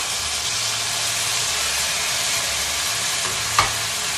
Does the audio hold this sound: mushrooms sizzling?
yes